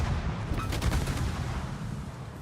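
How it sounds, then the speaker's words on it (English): Naval gunfire in World of Warships, a dense run of rumbling cannon blasts that stays loud and continuous throughout, with no voices. "let's start shooting at things because they're shooting at me"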